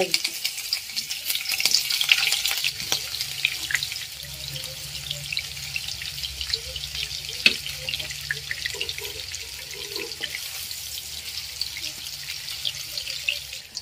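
Paneer fries in oil in a pan, a continuous close hiss and crackle that stays steady throughout, with occasional small pops and the clink of stirring, and no talking.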